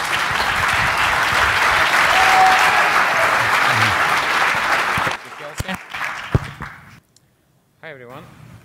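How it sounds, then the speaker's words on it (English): Applause from a tech conference audience at a KubeCon session, dense clapping for about five seconds that thins into a few scattered claps and knocks, then near silence. "let's give a big round of applause to Eugene from CoreOS."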